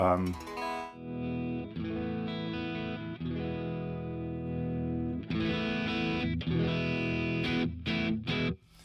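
Electric guitar played through an amp-like overdrive distortion effect, sustained gritty chords ringing out with a few strummed changes and a brief break near the start.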